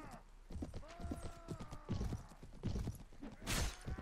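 Horse hooves clip-clop in a quick, uneven rhythm during a misty medieval battle in Mount & Blade, faint and without speech, with a brief brighter clatter near the end.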